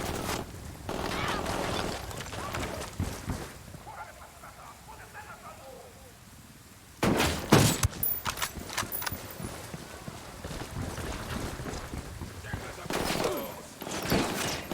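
Gunfire in the video game Ghost Recon Wildlands, with loud broadband bursts and rattling volleys around the middle and again near the end, over a busy clattering background with voices at times.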